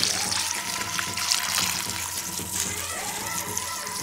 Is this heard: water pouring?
yes